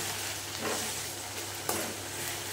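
Chicken being sautéed with a spoon of ginger and a spoon of garlic in a pan, a steady sizzle with soft stirring scrapes and a couple of sharper clinks near the middle, heard up close with no talking.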